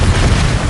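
A Bombarda blasting spell in Hogwarts Legacy bursts in one short, loud, low boom that fills the moment.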